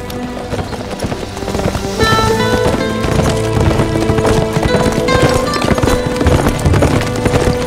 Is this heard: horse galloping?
yes